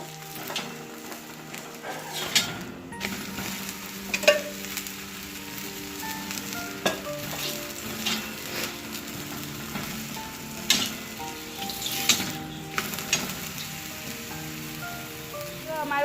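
Methi thepla flatbread sizzles in oil on a hot griddle, a soft, continuous crackle broken by irregular louder spits and scraping stirs, with a faint hum underneath.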